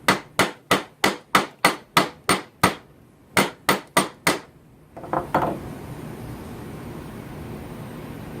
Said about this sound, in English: Couple more whacks and we'll call it a day.